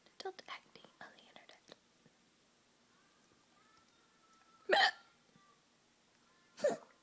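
An adult's hiccups come as two sharp, loud, isolated bursts a couple of seconds apart, preceded by quiet whispering and soft mouth clicks.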